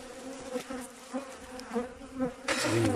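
Honeybees buzzing at open hives in an apiary in spring, a faint continuous hum with wavering pitches and passing bees, plus a louder rustle near the end.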